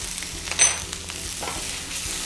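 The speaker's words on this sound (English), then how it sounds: "I'm going to saute the onions until it becomes nice and soft and almost lightly golden brown." Onions sautéing with garlic and green chilies in a pan, a steady close sizzle with light stirring scrapes throughout, no voices.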